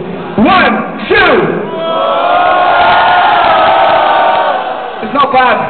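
A concert crowd at a Wolverhampton gig for a support band gives a couple of sharp shouts, then swells into sustained cheering and whooping, with more short yells at the end.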